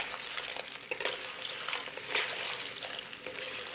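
Blanched clams being stir-fried in a wok with soy sauce, a dense steady hissing sizzle throughout with faint scraping stir sounds, close and continuous, no voices.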